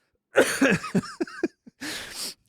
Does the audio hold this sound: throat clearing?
yes